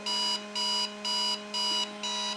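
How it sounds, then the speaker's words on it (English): A vintage alarm clock rings in five even bursts of bright, high-pitched tone, each about a third of a second, with a steady electrical hum from an inverter running underneath throughout. "The inverter's making more noise than the alarm, really, but it does work."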